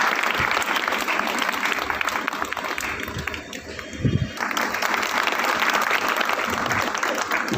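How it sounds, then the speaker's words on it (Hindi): Hearty applause fills a hall at a foundation trust inauguration ceremony in Dorigang, with many hands clapping densely and continuously, dipping briefly midway before swelling again. "ताली बजा करके सम्मान।"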